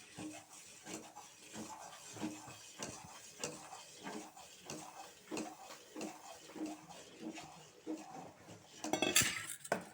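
A spoon scrapes and clinks rhythmically against a pan as semolina halwa with cashew powder, cardamom powder and raisins is stirred, steady repeated strokes up close, with a louder metallic clatter near the end.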